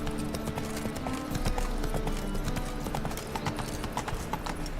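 Hooves of Roach, a horse in The Witcher 3, clip-clop in a quick, steady trot, close and continuous, with faint game ambience underneath.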